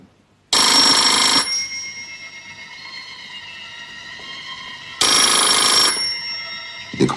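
A telephone rings loudly in two bursts of trilling bell, each about a second long and several seconds apart, with faint lingering tones between.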